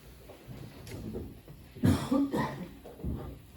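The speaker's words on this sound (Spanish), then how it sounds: "Traigo un poquito de tos" A person coughs a few times at a church service, harsh bursts close to the microphone in a quiet room with faint background murmur.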